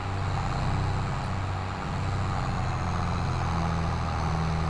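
New Holland 3630 tractor engine in Farming Simulator 22, fully modified, pulling hard in high gear: a loud, steady diesel drone with a low rumbling throb that holds constant throughout.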